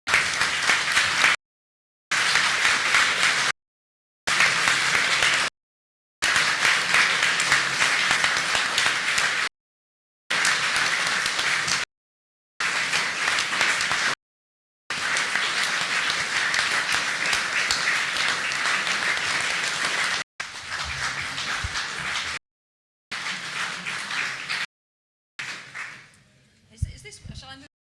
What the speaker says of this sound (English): Traditional to mark the passing of a legend with a 1 minute applause